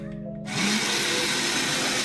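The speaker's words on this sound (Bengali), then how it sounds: "আমি প্রথমে চিড়াগুলো ব্লেন্ডার করে গুঁড়ো করে নিচ্ছি" A kitchen blender grinding crisped flattened rice into powder, starting up after a moment and then running as a loud, steady whirring roar close by, with no talking.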